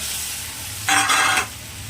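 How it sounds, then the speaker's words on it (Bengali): Pre-fried eggs drop into sizzling spice paste seasoned with salt, turmeric and a little sugar, giving a sudden loud burst of sizzle for about half a second before it fades back to a low simmer. "এইবার দিয়ে দেবো ভেজে রাখা ডিমগুলো,"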